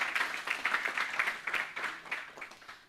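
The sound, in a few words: audience applause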